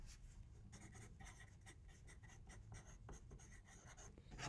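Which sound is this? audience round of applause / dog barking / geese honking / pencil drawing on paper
pencil drawing on paper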